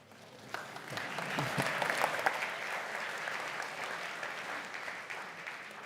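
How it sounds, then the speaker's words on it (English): Audience at a student engineering team's design presentation for an eco-efficiency car breaking into applause, a dense, steady patter of many hands that swells early and holds at an even level. "a well-deserved applause"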